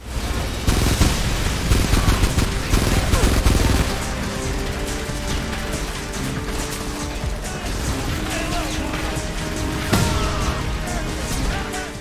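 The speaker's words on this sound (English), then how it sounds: "the weapons sound really good in this game" Dense gunfire from the shooter video game Frontlines: Fuel of War fills the scene, with rapid automatic bursts, loud cracks and clattering weapon mechanics over a continuous battlefield din, with no talk.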